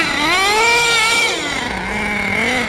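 HPI Savage X 4.6 nitro RC monster truck engine, running rich and loud after restoration, revving with a high buzzing, wavering pitch that rises and dips, steady and close throughout.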